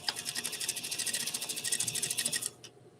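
A sewing machine runs steadily at its longest stitch length, a fast even chatter of stitches for about two and a half seconds before stopping abruptly, followed by a faint click.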